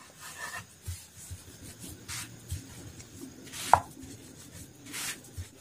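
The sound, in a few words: rolling potato dashmi dough with a rolling pin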